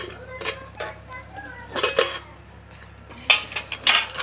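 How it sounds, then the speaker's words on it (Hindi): Bright metallic clinks and taps from a ladle against a pot as tempering is poured into lentils, a few scattered knocks separated by quiet, with faint sizzling beneath. "अब हम दाल में तड़का लगा देते हैं।"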